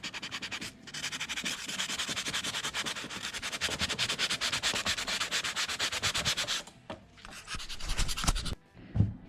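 A rusty guitar is sanded and polished by hand, giving continuous close, rhythmic scratchy rubbing strokes that stop abruptly, then resume as a few sparse strokes.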